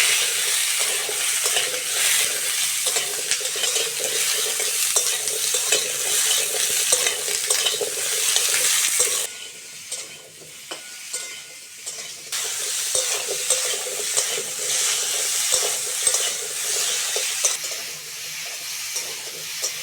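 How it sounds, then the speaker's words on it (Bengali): Potato, kohlrabi and beans fry in a wok, a steady close sizzle and hiss with frequent scraping stirs of a spatula, briefly quieter midway before the sizzle returns. "সবজিগুলো ভালো করে ভেজে নিয়েছি, এবার জল দিয়ে দেবো।"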